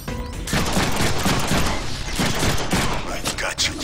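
Gunfire from the Deadpool video game fills the scene in dense, loud bursts of repeated shots, a near-continuous fusillade with a brief lull near the end, with faint game voices mixed underneath.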